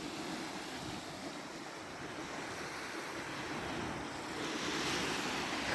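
Sea waves wash steadily onto a beach in Chornomorsk, a broad continuous hiss of surf with light wind, swelling slightly louder near the end and with no voices.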